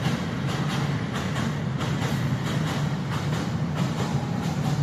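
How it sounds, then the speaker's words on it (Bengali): Old train crossing the Teesta bridge at Lalmonirhat, a continuous heavy rumble with a regular clickety-clack of wheels over rail joints, fairly loud and alone without talk. "আরেকটা কিন্তু ট্রেন যাচ্ছে, কিন্তু একটা মজার বিষয় আপনারা দেখতে পাচ্ছেন, পুরোনো ট্রেন যাচ্ছে।"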